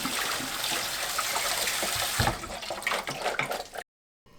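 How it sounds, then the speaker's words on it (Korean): Soaked black beans are rinsed in a sieve under running tap water, a close, steady splashing gush with small rattles of beans that cuts off abruptly near the end. "불린 콩을 헹궈서 체에 받쳐주세요"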